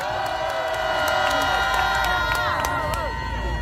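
A crowd at an outdoor rally in the plaza in front of Seoul City Hall cheers and claps to welcome a speaker. The cheering is dense and steady with some tonal shouts, with voices mixed in.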